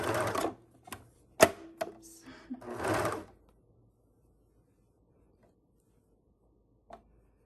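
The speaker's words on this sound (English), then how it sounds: "I'm just gonna serge the edge" A serger overlock machine sews a fabric edge in a few short bursts with clattering mechanical noise, then stops, leaving near silence and one small click near the end.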